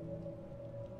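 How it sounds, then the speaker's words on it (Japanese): Steady rain in the horror video game Detention: a faint, continuous hiss of rainfall over a low sustained drone, lasting about a second with no voices. "雨もひどくなりそうだし。"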